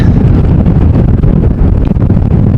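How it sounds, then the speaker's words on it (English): Strong, steady wind roars and buffets the microphone at an Amsterdam airport during a storm, a loud, continuous rumbling blast with no letup and no voices. "You guys will probably hear it as well on the audio. There's no slowing down yet of the wind."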